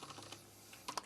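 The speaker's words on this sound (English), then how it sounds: "you'll get to see how awful I am at touch typing" Typing on a computer keyboard by someone not skilled at touch typing, a steady run of quick, light key clicks with a couple of louder taps near the end, heard alone.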